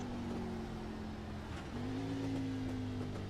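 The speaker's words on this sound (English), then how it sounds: "There's a downshift." A race car at Las Vegas Motor Speedway drones at a steady engine note, then drops a gear and the pitch shifts, settling at a slightly higher hum. The car sounds fairly distant and faint.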